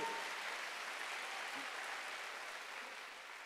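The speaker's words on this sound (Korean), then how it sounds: "박수하세요" Faint, even applause from a church congregation during a Korean Sunday worship service. It is a soft, continuous wash of clapping with no talk over it.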